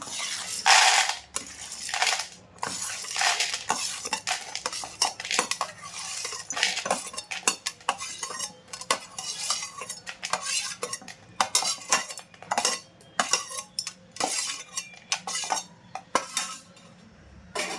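Fried chana dal tipped from a pan into a basket in a home kitchen, giving a dense run of dry rattling, scraping and clinking that rises and falls for most of the stretch, close and fairly loud with no talk.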